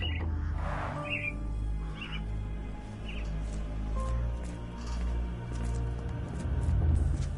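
Caged mynah birds in a video game chirp and whistle in short scattered calls over a low, steady ambient hum, fairly faint and spread out across the scene.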